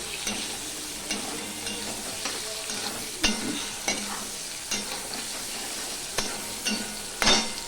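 Eggs fry in a pan with salt for an egg curry, giving a steady close sizzle broken by sharp scraping and stirring clicks from a utensil at irregular intervals.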